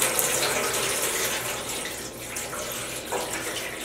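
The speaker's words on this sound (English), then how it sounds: "I'm gonna add 8 more cups of water by filling up this jar" A jar filling with tap water for a yarn dye bath, a steady, loud rushing gush from the faucet that runs unbroken from start to finish, close by with no talking.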